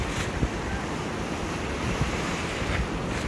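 Sea waves roll onto the beach at Cox's Bazar in a steady, close roar of surf, with wind buffeting the microphone throughout and no voices.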